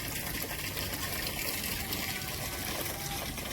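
Water poured out to wash a freshly swept floor area at home: a steady, continuous gush and splash, fairly loud and unbroken, with no talking.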